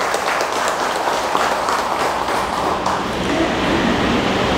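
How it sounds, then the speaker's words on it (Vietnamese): An audience at a Buddhist temple talk at Huệ Quang Pagoda in Da Nang claps together, a steady dense wash of applause that holds at even loudness from start to finish without pause. "Vỗ tay cái cho nó có không khí."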